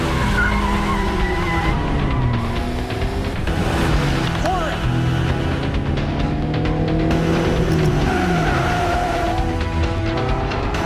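Car in the video game Quantum Break driving and skidding, a steady engine roar with wavering tire squeals throughout, under constant talking.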